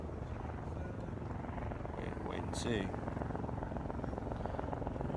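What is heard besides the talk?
helicopter flying overhead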